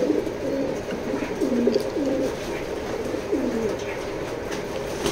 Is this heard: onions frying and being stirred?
no